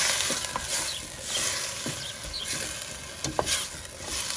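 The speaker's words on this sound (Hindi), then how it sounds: "4 मीडियम साइज चॉप टमाटोज दिया मैंने। 2 प्याज तो 4 टमाटर। ये धनिया का डंडी और हरी मिर्च।" Chopped tomatoes, onion, coriander stems and green chilli frying in a pan for a prawn curry, a continuous close sizzle swelling and easing in waves, with a few light clicks of a spoon against the pan.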